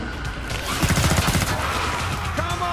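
Rapid gunfire bursts from a Demolitionist in the Killing Floor 2 shooter game, a dense, loud volley of shots cracking in quick succession for about a second amid continuous game noise.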